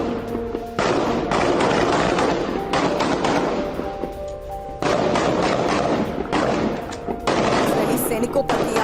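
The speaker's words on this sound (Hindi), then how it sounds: "जहां तुलकर में फायरिंग करते दिखे हमास के समर्थक और साथ ही इजरायली सैनिकों पर ताबड़तोड़ गोलीबारी की ये तस्वीरें आई" Heavy automatic gunfire from Hamas supporters firing on an Israeli military convoy in Tulkarm, West Bank: loud, sustained bursts of rapid shots with short gaps between them, close and harsh.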